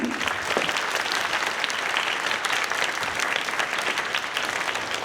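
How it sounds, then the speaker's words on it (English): An audience at a school Veterans Day celebration applauds to honor an Army veteran grandfather, a dense, sustained wash of clapping from many hands that runs evenly throughout. "give him a round of applause"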